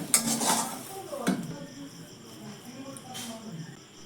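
Potato stuffing is scraped from a pan onto a plate and spread out to cool, giving a few close metal clinks and scrapes, with a louder knock near the start and another near the end.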